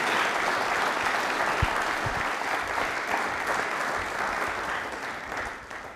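Indoor audience at a televised quiz programme breaking into loud, sustained applause that holds steady throughout before easing slightly at the end.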